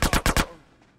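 Gunfire in the video game GTA San Andreas: a quick burst of four loud, evenly spaced shots, followed by a fading echo.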